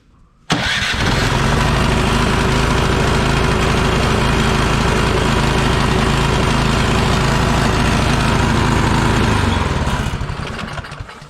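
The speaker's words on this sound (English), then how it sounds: "So this is how you start the Craftsman snowblower." A Craftsman snow blower engine kicks on by electric start and settles into a loud, continuous close-up roar that holds steady for about ten seconds before tapering at the end.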